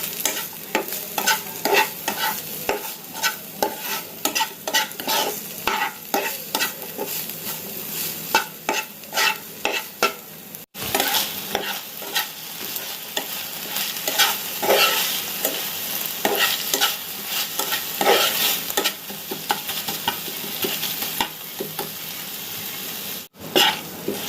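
Chicken meat frying with chopped onion in a pan, a continuous close sizzle broken by repeated scraping stirs of a spatula, with one brief pause midway and no talking.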